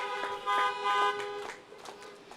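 Car horns toot at a high school drive-in graduation ceremony for the class of 2020, with a couple of short, moderately loud honks followed by fainter scattered beeps from other cars.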